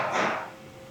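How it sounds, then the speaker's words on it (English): A single muffled handgun shot pops through the wall from an indoor police shooting range next door, a sharp thud whose tail fades over about half a second. "there's an indoor shooting range right next door to here"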